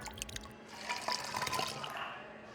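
Marvis mouthwash concentrate being mixed with water, soft liquid dripping and pouring with small splashy squishes, quiet and close with no voices.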